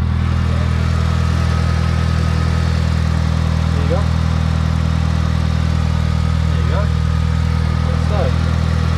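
A Mitsubishi Evo engine idles steadily after an EGR and secondary air system delete, a loud, even low rumble that fills the whole stretch, with a few faint chirps over it.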